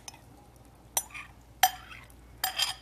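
Cooked black beans stirred into sautéed onions in a pan, with three short, fairly quiet bursts of scraping and clinking in an otherwise quiet kitchen.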